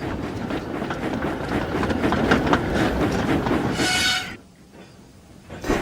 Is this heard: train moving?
yes